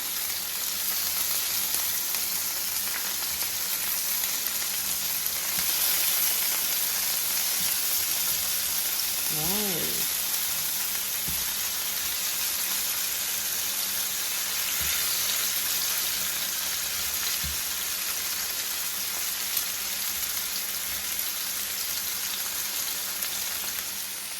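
Oxtail pieces frying in a pan, a steady dense sizzle that stays level and fairly loud throughout, with a few faint knocks and a brief tonal squeak partway through.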